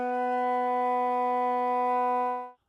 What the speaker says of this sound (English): So to review that fingering for low B